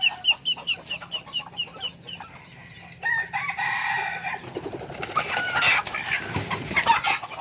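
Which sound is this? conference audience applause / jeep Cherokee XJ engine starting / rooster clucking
rooster clucking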